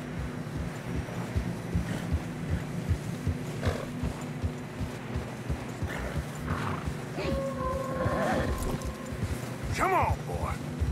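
Horses plod steadily through fresh snow in Red Dead Redemption 2, hooves thudding softly under blustery wind, with a few snorts and a whinny toward the end.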